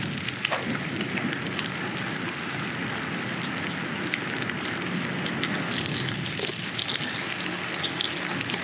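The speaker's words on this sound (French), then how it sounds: "Ça pleut." Rain falls steadily and loudly in a dense, continuous hiss along a lane during a bike commute, with a few faint drips or knocks scattered through it.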